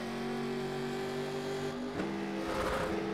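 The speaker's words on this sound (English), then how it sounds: "Oh, and he downshifts." Simulated NASCAR race car from a 1987 Legends iRacing race at Darlington Raceway, engine roaring steadily close-up, then dropping pitch on a downshift around two seconds before revving back up, with no talk.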